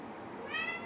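A single short cat meow, close and fairly clear, rising briefly at the end.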